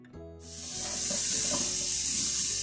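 Sautéed cabotiá pumpkin, cooked with its skin, is stirred in a frying pan, a few soft clinks and scrapes giving way to a loud, steady sizzle that builds and holds.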